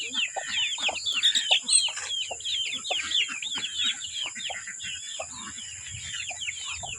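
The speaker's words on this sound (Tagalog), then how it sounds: "Dito na yung mga manok namin na nagising na sila." Chickens clucking and crowing on a farm in the early morning, a steady run of overlapping calls from several birds over faint background chirps, with no talking.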